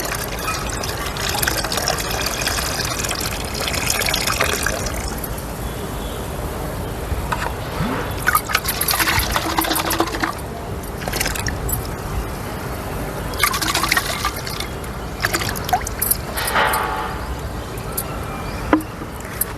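Water, NPK mother culture and half a kilo of jaggery being poured into a 100-litre water drum on a terrace garden, a steady splashing pour with gurgling bursts throughout.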